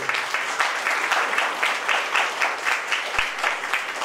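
An audience at a keertan performance applauds the musicians in a continuous, fairly loud round of clapping that pulses slightly but keeps going throughout.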